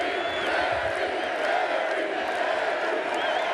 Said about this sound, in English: And then you get chants from the crowd